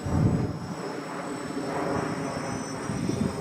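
An RC model airplane, the QuadLugs build, flies into the wind under partial throttle. Its electric motor and propeller give a steady, fairly loud buzzing drone with a thin high whine that swells slightly at moments.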